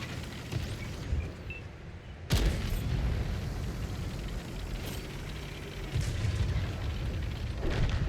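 A tank cannon in a World of Tanks–style game featuring the Object 277 fires with a sharp, loud boom, followed by a second heavier blast a few seconds later over a steady rumbling engine bed.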